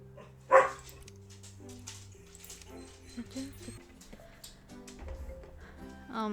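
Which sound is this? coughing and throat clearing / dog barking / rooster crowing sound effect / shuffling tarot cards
dog barking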